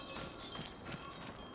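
Horse hooves clip-clop steadily at a walking pace in the Farming Simulator 25 video game, close and fairly even, with a faint ambient background.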